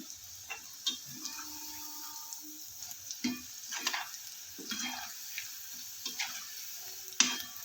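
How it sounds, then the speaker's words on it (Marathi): Ridge gourd bhaji fritters fry in hot oil with a soft, steady sizzle, broken by small clicks and taps as they are stirred and turned in the pan. "सगळे सगळे भजे मी करून घेत आहे"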